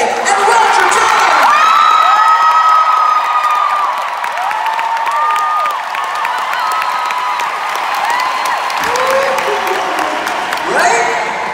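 A large concert crowd at a show cheers, whoops and applauds, a loud sustained roar with scattered shrill shouts and whistles throughout.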